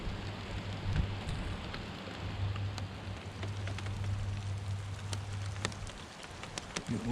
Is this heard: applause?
no